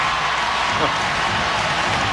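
Spurs fans applauding at an NBA playoff basketball game in San Antonio, a dense, steady wash of clapping and crowd noise that fills the whole moment with no break.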